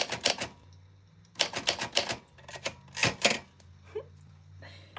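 An old vintage typewriter types onto tough paper: close, rapid clusters of crisp key strikes in bursts with short pauses, and a low mechanical hum beneath.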